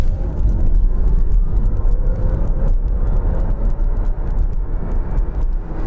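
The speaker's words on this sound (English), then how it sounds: "Feel the extra power." A Kia Soul EV electric car with 204 PS accelerates at full power, heard from inside as a steady loud road rumble and tyre roar with a faint rising motor whine, no talk.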